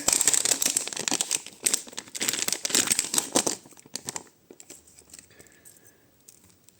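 A small plastic packet holding vintage jewellery crinkles loudly and busily up close for a few seconds, then settles into sparse, quieter rustles and taps.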